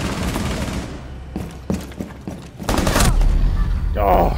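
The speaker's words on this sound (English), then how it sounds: "Somebody shot at me and I thought it was you." Gunfire in Rainbow Six Siege: bursts of sharp shots crack out unevenly, some close and punchy, others duller, mixed with mechanical clatter and rumbling game noise.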